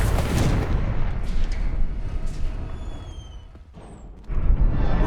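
A Confringo blasting spell in the video game Hogwarts Legacy goes off as a loud, rumbling explosion that decays over a few seconds, followed by a fresh burst of noise near the end.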